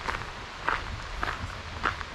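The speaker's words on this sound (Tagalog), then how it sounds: "naglalakad tayo dito" Footsteps crunching along a forest trail toward a hidden waterfall, roughly four distinct steps at an unhurried walking pace, close and moderately quiet with a light outdoor background.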